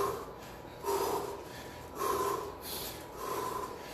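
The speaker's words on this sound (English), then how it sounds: "Control that breathing. Breathe deep." Deep, forceful breaths during a step-and-punch workout, heard as three loud, evenly spaced inhale-exhale surges about a second apart, close to the listener and alone without talk.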